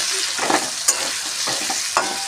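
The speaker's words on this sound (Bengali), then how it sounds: "এবারে দিয়ে দিচ্ছি এর মধ্যে মটরশুঁটি। আবার নেড়ে চেড়ে দেবো" Cabbage, peas and mixed vegetables stirred in a hot pan for a cabbage curry: a close, steady sizzle broken by rhythmic scraping strokes of a spatula, with no talking.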